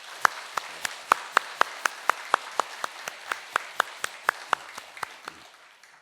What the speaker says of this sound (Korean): 찬양대회에서 격려의 박수 한번.